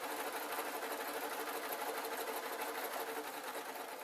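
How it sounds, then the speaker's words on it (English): A sewing machine stitches fabric for a first-time pin tray project, running at a steady, rapid whirring rhythm throughout, fairly close and uninterrupted with no talk. "And then I'm going to sew along."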